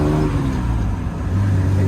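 A 1967 Austin Healey 3000 with the top up, its engine droning steadily from inside the cabin while driving on the road, a low continuous hum with no voices.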